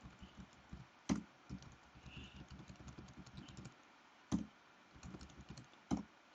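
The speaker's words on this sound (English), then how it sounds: "And let's continue typing." Keystrokes on a computer keyboard while text is entered into a slide, a quiet, irregular run of soft clicks with a few sharper taps standing out.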